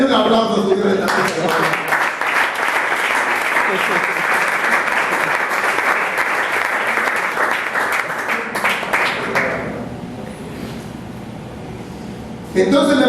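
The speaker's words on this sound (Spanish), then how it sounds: "Denle un aplauso a su Dios esta noche." A Pentecostal church congregation claps loudly and continuously for about nine seconds, then the applause tapers off into quieter room noise.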